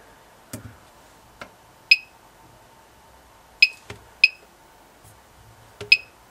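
A uRADMonitor dosimeter, counting radiation from a radium dial watch, gives irregular sharp clicks, several paired with short high beeps. They come every second or so over a faint steady hum, with no talk.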